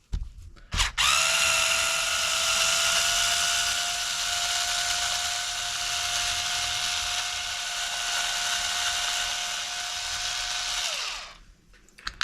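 A power driver whirs in one long, steady high-pitched run while backing screws out of the differential case of a Kraton 8S EXB RC car, starting and stopping with sharp clicks close by.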